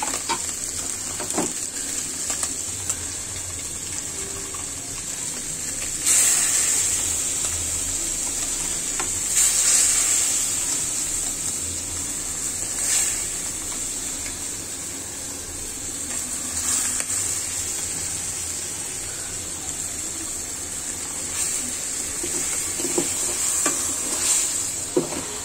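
Moong dal tipped into a pan of fish head and hot spices sizzles loudly with a constant high hiss, while a spoon stirs and scrapes in bursts through the sizzle.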